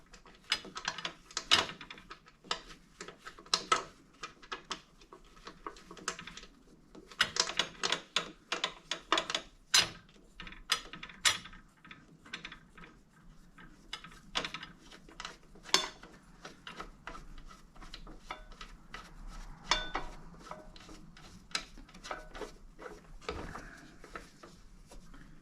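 Quiet clicks, ratcheting ticks and small metallic knocks come from hands working the blade bolt on a DeWalt DWS779 compound miter saw during a blade change. The bursts are irregular and close, with short gaps between them.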